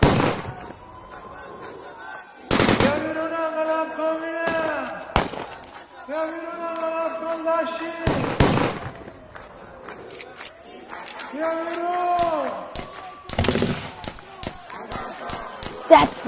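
Fireworks and firecrackers burst during Chaharshanbe Suri celebrations in Iran, several sharp, loud bangs and crackles spaced apart over a busy outdoor scene, with voices talking between the blasts.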